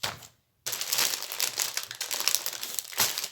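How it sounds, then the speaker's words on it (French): A small plastic bag crinkles as an embroidery pattern is slipped back inside, close and crisp, after a brief pause and then continuing in dense rustling bursts, with no talking. "Donc je remets tout ça dans son petit sachet."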